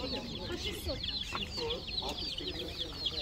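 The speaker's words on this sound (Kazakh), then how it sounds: "Кімдікі тауық?" Chickens clucking at a poultry seller's, several birds giving short overlapping clucks and calls close by, with people talking faintly in the background.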